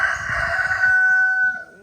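A rooster crows loudly and close by, one long drawn-out call that rises and then holds steady before cutting off.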